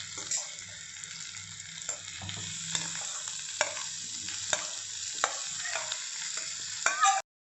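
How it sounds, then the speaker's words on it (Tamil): Boiled raw plantain goes into a pan and is stirred, a soft continuous sizzle with periodic scraping and tapping strokes of a spoon against the pan, close and fairly quiet, ending abruptly. "இப்போ இந்த வாழைக்காயை நம்ம இதில் சேர்த்துடலாம் பானியில் சேர்த்துடலாம்"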